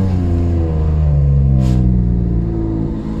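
Car engine revving through its exhaust, a loud, close, rumbling note that swells and holds with a brief rasp partway through, then eases off.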